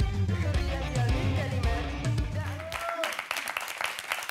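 An audience applauds a band, with broad clapping that swells over the last second and a half after music and voices fade.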